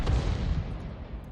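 The S-51 tank's B4 cannon in a tank video game, heard as a deep, booming rumble that rolls off and fades steadily over about a second and a half.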